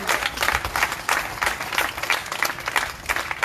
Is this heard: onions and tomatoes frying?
no